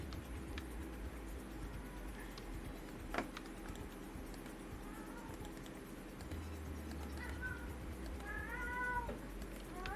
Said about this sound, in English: Cat, I hear you.